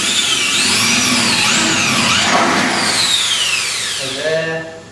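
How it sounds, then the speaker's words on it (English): A power drill bores holes for 6mm rivets, its loud, close whine rising and falling in pitch as the bit works through, then winding down and slowing near the end. "it's probably best really actually that you only drill a couple of the holes to start."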